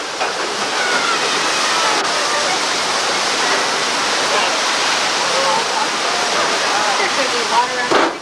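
Loud, continuous rushing water roars steadily throughout, like a splashing water effect on the Universal Studios tram tour in 1992, with no clear pauses.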